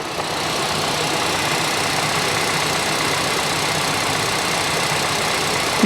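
Engine of a flood-damaged Kia Ceed GT-Line idling after repair, a close, steady and fairly loud hum that holds even throughout with no voices over it.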